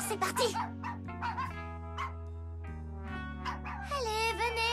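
Puppies in a Barbie cartoon yip and bark in short, bright bursts over a steady musical backing, the little barks scattered across the clip and close by.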